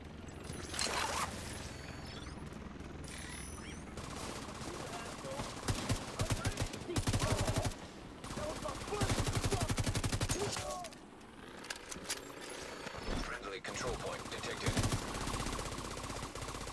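Rapid automatic gunfire in The Division 2 video game, bursts of sustained rattling shots fired at a fleeing enemy, loud and close with brief pauses between volleys, while a player talks over it.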